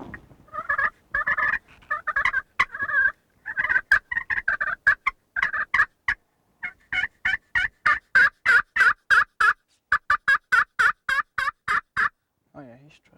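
A wild turkey tom gobbles loud and near in long runs of rapid, rattling bursts with short pauses between them. No voices are heard.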